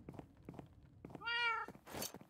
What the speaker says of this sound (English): Okay, this cat is pissing me off.